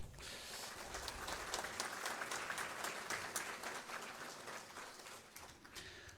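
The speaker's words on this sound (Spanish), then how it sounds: "lo solicito un fuerte voto de aplauso" Warm audience applause at a Bolivian legal seminar on the role of lawyers in the plurinational state, a crowd clapping steadily with a slight swell midway, then tapering softer toward the end.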